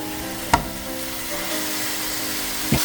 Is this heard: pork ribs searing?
yes